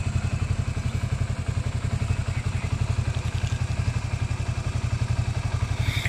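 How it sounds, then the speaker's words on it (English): Carbureted Honda CBR motorcycle with a dual overhead cam engine idling close by, a steady fast low thrumming pulse with light mechanical clatter, running evenly throughout with no voices. "Honda CBR version 1 carburetor."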